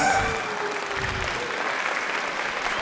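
Audience applause for a troupe of dancers after a classical dance performance at an Ugadi cultural celebration, a steady, dense clapping from a full hall that holds evenly for about three seconds.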